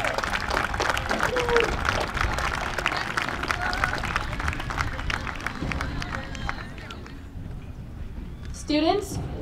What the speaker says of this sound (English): please come forward for a final round of applause for a job well done this evening